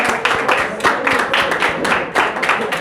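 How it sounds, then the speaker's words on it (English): A classroom audience claps for a student presenter, lively uneven applause with distinct sharp hand claps standing out from the group at close range. "Give him a big round of applause"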